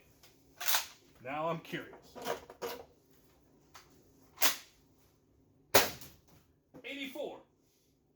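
A McCree blaster fires several sharp, snappy shots spaced seconds apart, each a brief crack, loud against near silence, with someone speaking briefly between shots.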